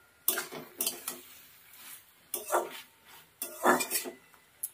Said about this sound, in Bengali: এবার একটু ভালো করে নাড়িয়ে চাড়িয়ে নেব।